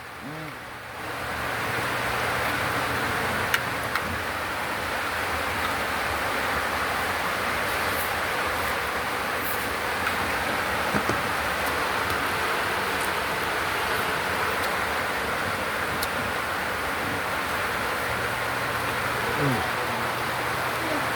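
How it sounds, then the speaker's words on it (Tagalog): Very heavy storm rain pours down steadily as a dense, continuous wash of noise, loud and unbroken throughout, with faint background sounds beneath. "Dinignan nyo yung napakalakas na ulan"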